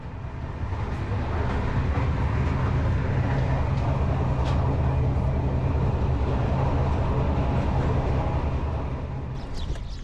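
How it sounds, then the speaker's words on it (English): Steady, dense rumble of a passenger train rolling along the rails from Aswan to Luxor in Egypt, with a constant low roar and faint rattling throughout, no talking. "This is the train from Aswan to Luxor."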